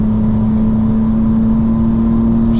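Exhaust burble from a 900-horsepower 2025 BMW M4, a loud, close, steady droning rumble that holds without pause and has no talk over it.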